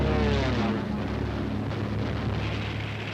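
Archival recording of Luftwaffe aircraft in flight, a steady droning engine hum with a low throbbing tone, moderately loud and unbroken throughout, with no speech.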